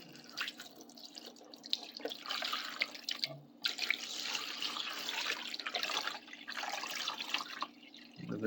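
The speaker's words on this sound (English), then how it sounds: "Put some water in there with it." Water pours and splashes into a tub holding baking soda and vinegar, a steady rushing trickle with brief pauses, close and moderately loud with no talking.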